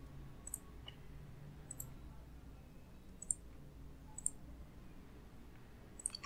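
Mouse clicks while drawing a polyline in AutoCAD, several sharp isolated clicks spaced about a second apart over a quiet background hum.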